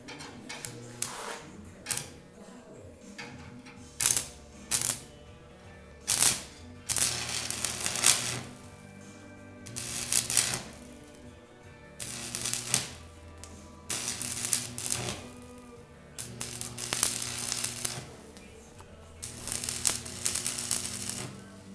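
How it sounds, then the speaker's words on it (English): Stick welding with a 6013 eighth-inch rod on a Chevy pickup box trailer, short bursts of crackling arc noise repeating every second or two in a stitch-weld pattern over a low steady hum. "Going to use a 6013 eighth inch rod"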